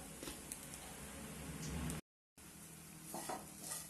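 Melted jaggery poured into grated coconut roasting with cumin in a pan, giving a steady close sizzle with soft stirring scrapes, briefly cut to silence before the frying noise resumes.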